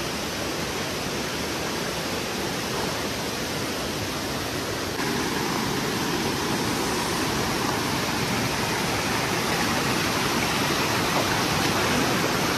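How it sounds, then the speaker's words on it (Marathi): A fast-flowing river in Kokan rushes in a steady, dense roar of water that holds at an even, loud level throughout, with no voices over it. "पाण्याचा प्रवाह बघा"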